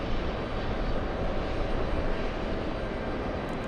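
A jet airliner takes off from runway 22 right at JFK airport in New York, its engines a loud, steady broadband roar that holds constant throughout.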